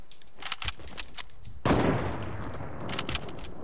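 Sniper rifle shots in a video game: a few sharp cracks early, then a loud blast with a rolling echo, followed by several more scattered reports under steady background noise.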